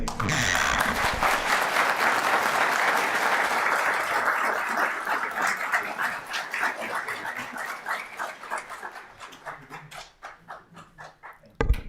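Applause at a town council meeting, a full room clapping steadily, then thinning to scattered claps that fade toward the end.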